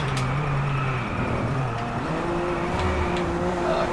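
A car drifting in the racing video game Drive Club, its engine holding a loud, sustained drone that rises in pitch partway through, with a faint tire-scrub hiss and no talking over it.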